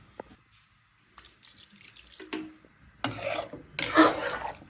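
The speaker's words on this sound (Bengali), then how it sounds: "আর একটু দিব পানি" A little more water is poured into a pan of mixed-vegetable curry with suri shutki dried fish, giving short splashing, hissing bursts close by after a few faint clinks.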